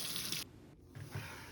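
Tap water runs over a hand-embroidered piece to rinse out stabilizer, a broad close splashing hiss that cuts off briefly midway, then returns softer with small low drips and sloshes.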